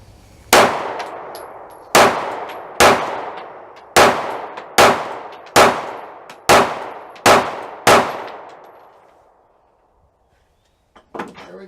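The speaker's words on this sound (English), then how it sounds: "Flat mag. Show you how that shoots." A SIG P365 pistol fired with a flat magazine lets off nine sharp gunshots at a steady, moderately quick pace, each loud and close with a short ringing decay, followed by quiet and a few faint handling clicks.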